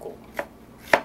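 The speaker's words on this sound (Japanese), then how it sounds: "だからこのように切って、 薄切り" Two sharp knife strikes cut thin onion slices against a cutting board, the second louder, with a quiet pause between them and no voices.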